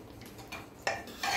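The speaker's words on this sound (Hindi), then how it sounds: "अब मैं आपको डिश आउट करके दिखाती हूँ" Cooked ridge gourd and chana dal curry served into a dish, with a few close clinks and scrapes of utensil against cookware, one sharper knock near the end, and no talking.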